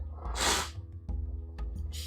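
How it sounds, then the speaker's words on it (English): Close, loud sniffling through the nose: a few sharp breathy intakes in quick succession, the first strongest, with no talk. "Pardon my sniffling."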